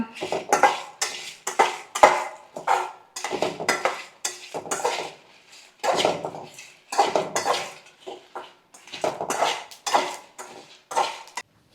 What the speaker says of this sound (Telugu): ఒక స్పూన్ ధనియాలు వేసుకొని అండ్ ఒక స్పూన్ జీలకర్ర వేసుకొని వేయించుకుందాం